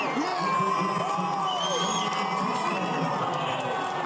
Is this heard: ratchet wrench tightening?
no